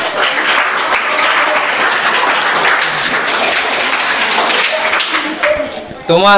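School students applauding during a meditation session, dense continuous clapping from a group at close range, ending with a voice speaking as it fades.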